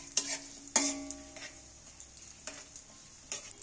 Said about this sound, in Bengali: এবার তেলের মধ্যে ভালো করে এগুলো ভেজে নেব।